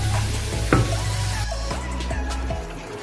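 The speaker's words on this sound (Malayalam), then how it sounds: "ഇതിനകത്തോട്ട് നമുക്ക് കുക്കറിലിരിക്കുന്ന മട്ടനെടുത്തിടാം" Pressure-cooked mutton drops into a hot pan with a bump, followed by a loud, continuous sizzle and some stirring.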